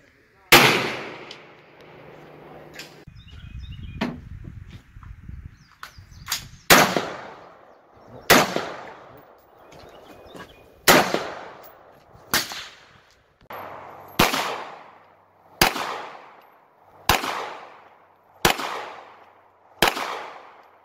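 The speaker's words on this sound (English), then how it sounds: "I shot my 308 hunting rifle, my friend's AR, which is chambered in 223, and a couple of 9mm pistols." Gunfire at a shooting range from a .308 hunting rifle, an AR-15 in .223 and 9mm pistols: about a dozen sharp, loud reports spaced roughly a second or two apart, each with a decaying echo, with some talk early on.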